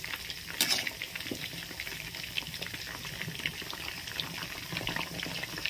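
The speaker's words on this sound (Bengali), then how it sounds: "মাংসটা ভেজে আমি দেখাচ্ছি।" Chicken pieces fry in a deep wok of hot oil, a constant dense bubbling crackle with scattered sharper pops, close and fairly even throughout.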